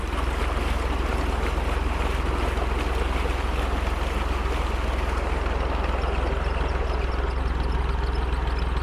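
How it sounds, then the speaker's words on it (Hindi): A tractor-driven tubewell pump runs steadily while irrigating a kinnow orchard, giving a loud, continuous low mechanical drone with a broad rushing wash of water or wind over it, constant for the whole stretch with no voices. "किन्नू के बाग को पानी देने के लिए ये ट्यूबवेल चल रहा है।"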